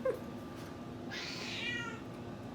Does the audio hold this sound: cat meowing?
yes